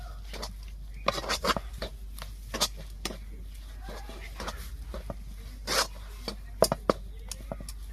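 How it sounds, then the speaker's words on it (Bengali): Flour and semolina dough worked by hand with ghee gives scattered soft rubbing and crumbly rasping strokes, irregular and close, with no voices over it. "এবারে এর মধ্যে আরও 1 চামচ ঘি আমি দিয়ে দেব। দিয়ে এটাকে ভালো করে আবারও মাখিয়ে নেব।"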